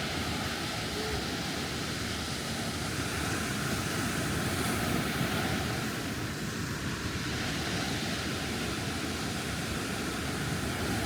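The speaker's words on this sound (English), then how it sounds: "Just enjoy the sound of the waves." Continuous low roar of ocean waves washing in at Carolina Beach at sunrise, broad and steady with a gentle swell midway, no voices.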